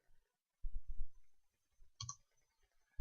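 A computer mouse gives a quick double click, two sharp faint ticks close together, surrounded by soft low thumps in an otherwise quiet room.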